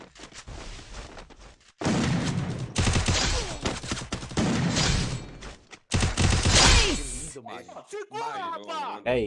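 Bursts of rapid gunfire in the mobile game Free Fire crackle in dense volleys with brief pauses between them, mixed with game effects and excited talk.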